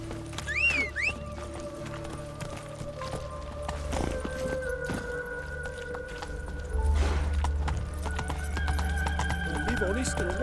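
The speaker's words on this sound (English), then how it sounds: "Caballo." Horse hooves clip-clop steadily along a road in The Witcher 3, with a whinny early on and game voices and music-like tones running over the hoofbeats throughout.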